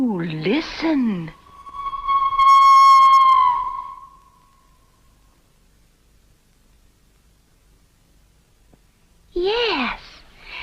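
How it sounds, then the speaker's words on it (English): A steam locomotive whistle sounds from inside a tunnel, one long, clear, sustained tone that swells and fades away into silence, with speech before and after it. "There's a whistle from the tunnel."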